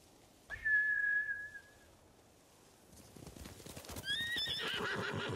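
Samurai horses in Ghost of Tsushima whinny in fright, one long neigh early on, then hooves clip-clop and more shrill whinnies rise over rustling movement toward the end.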